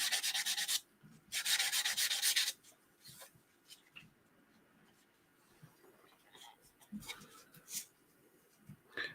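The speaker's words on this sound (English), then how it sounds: "What are you sanding on, Lois?" Hand sanding in brisk rasping strokes, two long loud passes then quieter scattered scrapes and rubs, with faint background voices.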